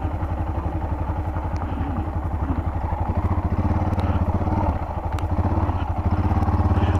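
A Yamaha XT660R motorcycle engine runs steadily while being ridden, a loud, continuous throbbing drone with low pulsing beats and slight swells in intensity, close to the listener and heard alone.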